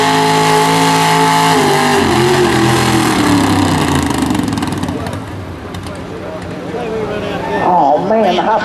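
A truck or tractor engine roars at full throttle during a tractor pull event, a loud sustained howl that sags briefly midway and then surges again near the end.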